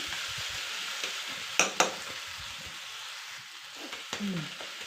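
Tomato and onion frying and being stirred in a pan for a Kannada bendekayi huli saaru, a steady soft sizzle broken by a few sharp scrapes of the spoon against the pan, with no talking.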